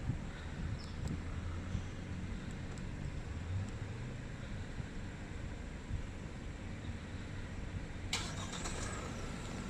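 A 2020 Proton X50 car starts by remote start, with a low steady engine hum and wind-like rumble throughout, a small click near the start and a brighter burst near the end.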